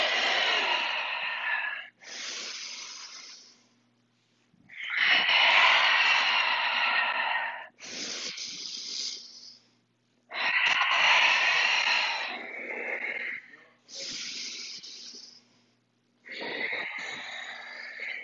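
Deep yoga breaths, slow audible inhales and exhales alternating in long rhythmic bursts separated by short quiet gaps, close and breathy, with no talking.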